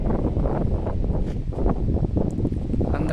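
Wind blowing across an open scenic viewpoint with plants nearby, a continuous gusty rush buffeting the microphone at moderate loudness, with faint rustling and no speech.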